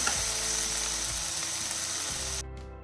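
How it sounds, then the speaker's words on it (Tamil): Finely chopped tomatoes, together with another ingredient, sauté in a pan on a medium flame for chicken curry, a steady close sizzling hiss with faint stirring that drops off abruptly near the end. "ரெண்டையும் சேர்த்து நல்லா வதக்கலாம் மீடியம் ஃப்ளேமில் தான் நான் வச்சுருக்கிறேன்"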